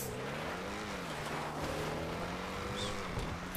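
A Range Rover's engine drones steadily while driving off-road, with a continuous low tone that shifts in pitch as it accelerates, heard close with no talking.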